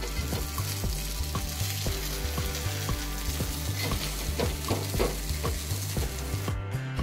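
Fresh pea cutlets fry crisp in a pan, a loud continuous sizzle overlaid by a faint rhythmic background beat, close up and steady, with no talking.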